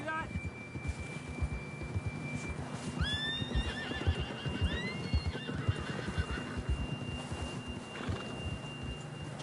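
A horse whinnies in Red Dead Redemption 2, a rising neigh near the middle of the clip over steady hoof clip-clop, with a thin sustained tone running underneath.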